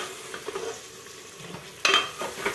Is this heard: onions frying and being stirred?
yes